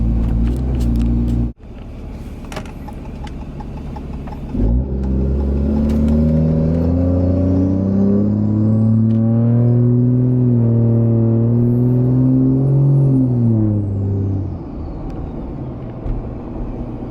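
Cummins diesel truck engine heard from inside the cab, a steady loud drone that rises as the turbo spools with a faint whistle, then eases off near the end after a brief cut early on.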